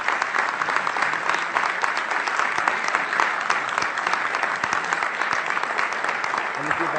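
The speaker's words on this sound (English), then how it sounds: "how about a round of applause for our speaker?" An audience applauds a speaker with dense, continuous clapping that holds at an even, loud level throughout, with no pause or fade.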